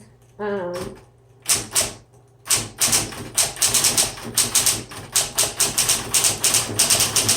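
Typing on a 1960s Smith Corona Coronet Electric 12 typewriter: after a brief spoken bit, a run of sharp, close key strikes and carriage clacks in an uneven rapid rhythm.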